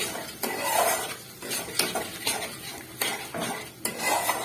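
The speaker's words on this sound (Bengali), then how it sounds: "এর মধ্যে আমি দেবো ফেটিয়ে রাখা একটু টক দই। দিয়ে আবার একটু কষিয়ে নেব।" Aloo dum masala with whisked sour yogurt being stirred in a pan over low flame: repeated scraping clinks of a spoon against the pot over a soft background sizzle, close and steady, with no talking.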